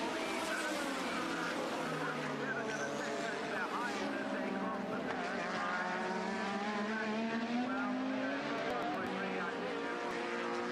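1980s Formula 1 cars racing through the fast corners of Paul Ricard at the French Grand Prix, their high-pitched engines wailing and shifting pitch continuously under an overlaid commentary voice.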